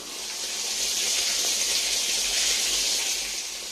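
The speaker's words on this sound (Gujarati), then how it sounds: "પાણી ચાલુ થઈ ગયું" Steady rushing water pours continuously into a tank with a broad hiss, close by and fairly loud, with no voices.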